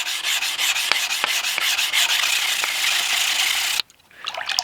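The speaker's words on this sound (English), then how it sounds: "I've got my sanding abrasive wrapped around my wood here. I'm still using water. We're going to sand the flats first." Steady wet hand sanding of a knife blade's flats, abrasive paper wrapped around a wooden block, water running over the steel; continuous close scratchy rubbing strokes with rhythmic pulses, then a sudden drop to near silence near the end.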